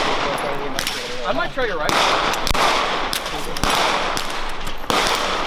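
Loud gunfire at an outdoor shooting range, including shots from a 9mm carbine, cracks out in sharp repeated reports at irregular intervals, with people talking between and over the shots.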